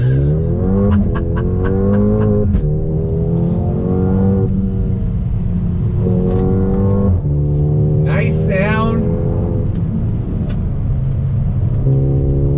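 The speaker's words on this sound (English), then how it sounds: "that launch control, so easy to use, gets the power down so nicely" A 2021 Mercedes-AMG GLA 35 launches under launch control, its engine climbing loudly through repeated rising revs with quick gear changes, close and powerful throughout, with a brief excited voice partway through.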